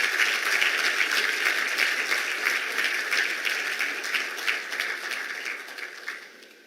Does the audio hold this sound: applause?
yes